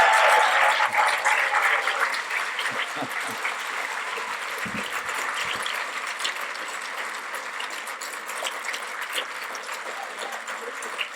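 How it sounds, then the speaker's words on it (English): A conference audience at a closing plenary debate applauds its eight speakers, dense continuous clapping that starts loud and slowly thins and fades over several seconds. "screaming round of applause"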